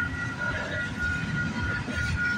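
A freight train with a distributed power unit passes at a Toronto rail crossing, a steady loud rumble with sustained tonal engine drone throughout.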